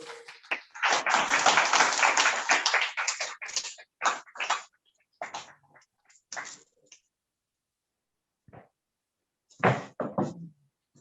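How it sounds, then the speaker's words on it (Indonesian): Audience applause at a mosque inauguration ceremony: a dense, loud burst of clapping for about three seconds, then fading into scattered short claps and a brief final flurry. "kita berikan aplaus untuk"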